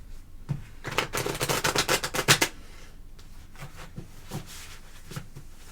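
Tarot cards being shuffled by hand, a quick run of rhythmic riffling flutters up close, followed by a few soft taps and card handling noises.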